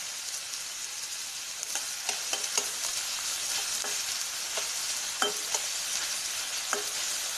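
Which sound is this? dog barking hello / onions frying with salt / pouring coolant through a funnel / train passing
onions frying with salt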